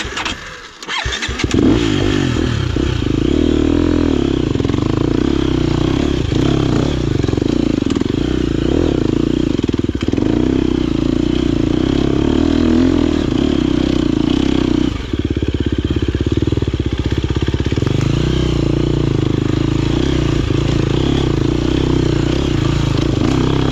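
A 2023 KTM 250XCF dirt bike rides a ridge trail, its engine loud and close throughout, droning and rising and falling with throttle changes and a brief dip midway.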